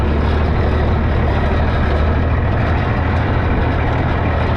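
Rare Minneapolis Moline G707 tractor, restarted after sitting parked for 13 years, its engine running loud and close in a steady, unbroken heavy roar.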